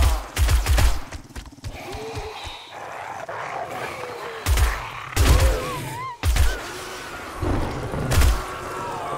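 Gunfire in the survival game 7 Days to Die, loud bursts of rapid shots in several clusters with heavy low thumps between them, and some scattered creature-like noises in the background.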